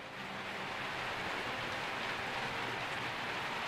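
Steady heavy rain falls outdoors near a health clinic, producing a dense, constant hiss with no pauses, loud and close, and no talking over it.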